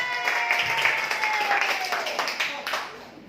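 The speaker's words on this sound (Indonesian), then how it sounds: "beri tepuk tangan dulu buat PT BES" A seminar audience at an Islamic business event in Cilangkap applauds for PT BES. Steady clapping lasts about three seconds, with a voice speaking through it before the applause tapers off.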